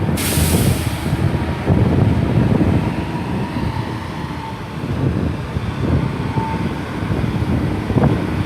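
An Arriva Trains Wales Class 158 diesel unit pulls into a platform at Chester station, a rumbling approach with wheel and brake noise, gusts of wind on the microphone and a brief squeal.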